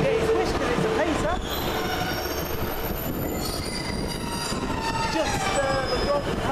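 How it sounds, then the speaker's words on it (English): Northern Rail Pacer class 144 diesel multiple unit pulling into a station, loud and close, with squealing wheel screeches and rumbling running noise throughout, faint voices in the background. "And here comes our train, and Simon's going to get his wish"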